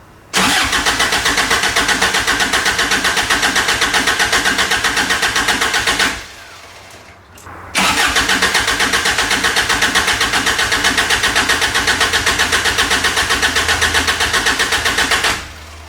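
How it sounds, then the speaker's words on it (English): A Toyota with a swapped TDI diesel engine cranks loudly and steadily on the starter without firing, pauses briefly, then cranks again in a long rhythmic churn that fails to catch, heard up close. "So let's crank this thing over and see if it'll fire up."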